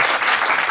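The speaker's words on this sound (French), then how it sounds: "Applaudissez-les." An audience claps in a brief, dense burst of steady applause with no pauses.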